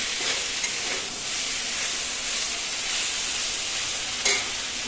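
Pointed gourd, already fried until reddish, stir-fried with spices in an oily pan: a steady, dense sizzle with scraping stirs throughout, close and continuous, no voices.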